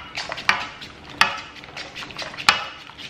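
A spoon stirs cheesy cauliflower pasta sauce in a pan in a figure-of-eight motion, with repeated scraping strokes and three sharp knocks against the pan, close and clear with no talking.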